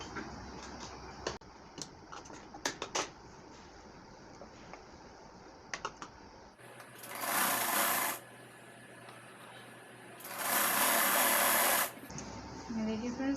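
A sewing machine stitching along the edge of a designer blouse runs in two steady bursts of a few seconds each, preceded by scattered light clicks and handling taps, fairly close in a quiet room.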